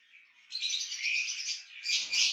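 Blue Fischer's and albino chicks in a pet bird breeding cage give close, high-pitched chirping in two rapid, insistent bursts separated by a short dip, with no talking.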